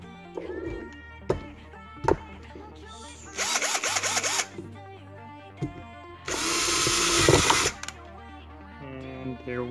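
A power drill whirs in two loud bursts while boring into a Hot Wheels toy car, with clicks and handling noises between them, close by and without speech.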